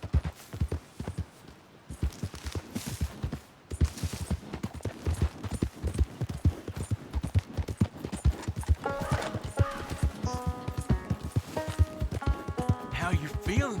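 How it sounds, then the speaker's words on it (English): Steady clip-clop of horse hooves at a trotting rhythm in Red Dead Redemption II, close and continuous, with someone talking over it and brief musical tones later. "Meet the horse."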